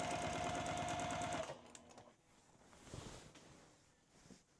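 Free-motion quilting on a sewing machine stitching a hook motif: a loud, steady rapid needle rattle runs for about a second and a half, then stops, leaving quieter handling noises.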